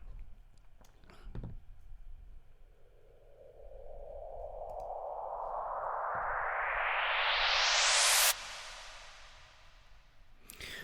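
White noise fed through Logic's Platinum Verb with a long reverb tail: a hiss that swells and rises steadily in pitch for several seconds, then cuts off sharply and leaves a fading wash. Faint background sounds sit underneath.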